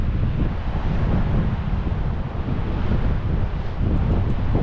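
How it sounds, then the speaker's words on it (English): Gale-force wind on the Whitburn coast buffeting the microphone in a constant heavy roar and rumble, with possible surf underneath and no talking. "I'm sorry about the wind noise."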